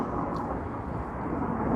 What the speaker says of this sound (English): Sorry about the helicopters.